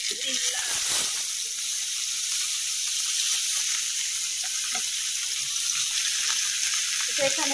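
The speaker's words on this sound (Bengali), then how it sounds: "পেঁয়াজের সাথে চিংড়ি মাছটাকে একটু সামান্য একটু 2-4 মিনিট নাড়াচাড়া করে নরম করে" Shrimp and onion fry in a hot pan, producing a steady close sizzle that runs throughout, with faint occasional clinks and a voice briefly in the background.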